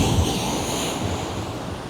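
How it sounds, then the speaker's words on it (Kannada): Sea waves wash up on Paradise Beach in Pondicherry, a broad continuous rush of surf with wind noise across the microphone, loud and close with no voices. "ನೀರೇ ನಾವಿರೋ ಕಡೆ ಬರುತ್ತೆ."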